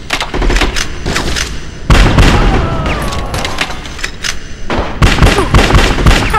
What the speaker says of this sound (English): Everybody just quit shooting!